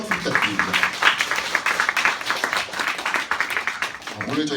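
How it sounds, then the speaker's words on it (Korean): Audience at an educators' event applauding Google employees, a steady patter of many hands clapping that stays even and fairly close for several seconds. "구글에서 근무하고 계신 분들 큰 박수 부탁드립니다."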